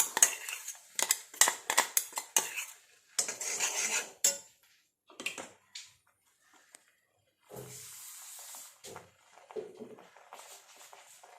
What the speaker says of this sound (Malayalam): ഇരുമ്പ് ചീഞ്ചട്ടി അടുപ്പത്ത് വയ്ക്കുക. അതിനകത്തേക്ക് നമ്മുടെ ഈ പേസ്റ്റ് ചേർത്ത് കൊടുക്കുക.